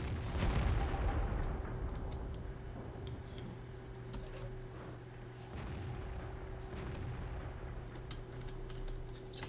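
SU-85 tank destroyer gun firing in World of Tanks, a single heavy boom at the start followed by a rumbling engine drone and faint clicks.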